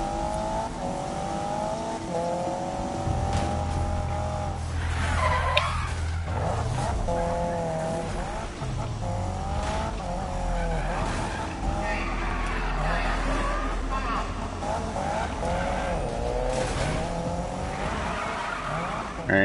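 Racing game car balancing on two wheels in Midnight Club, with continuous loud engine revving and repeated tire skids and squeals, a voice talking over the game sound throughout.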